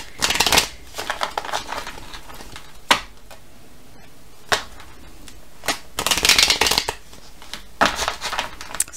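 Oracle cards being shuffled in several bursts of crisp riffling and flicking, with short pauses and sharp card snaps between them, close and fairly quiet.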